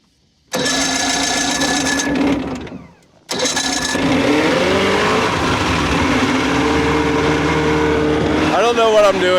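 Jet boat engine running on a lake, loud and close, a revving motor that cuts out briefly and restarts, then drones steadily with a rising surge near the end; voices speak over it.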